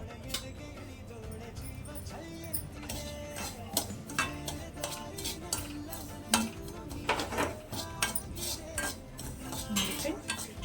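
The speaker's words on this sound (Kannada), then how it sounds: "ರವೆ ಹುರ್ಕೋಬೇಕು ಆರಾಮಾಗಿ ನೀಟಾಗಿ" Bombay rava (semolina) roasts in a pan for upma while a spoon stirs it, giving repeated close metallic scrapes and clinks in an irregular rhythm over a faint background.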